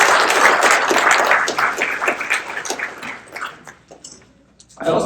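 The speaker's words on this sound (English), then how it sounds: "Let's give them a round of applause." An audience at a Boys and Girls Club event gives a round of applause, loud and dense at first, then thinning into scattered claps that fade before a voice returns at the end.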